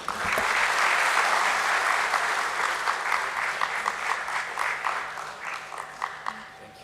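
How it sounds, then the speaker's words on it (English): An audience at the DOMS Industries listing ceremony at BSE gives loud, dense applause that holds for several seconds, then thins into scattered individual claps as it fades. "Let's have once again a huge round of applause for him"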